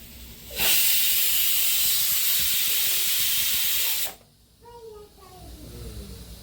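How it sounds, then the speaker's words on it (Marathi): Asafoetida and garlic hit hot oil in a home kitchen pan with a loud, steady sizzling hiss that holds for about three and a half seconds, then cuts off abruptly, leaving faint clinks and softer background sounds. "तेल गरम करून घेतलं आहे आणि त्यात हिंग घातलंय"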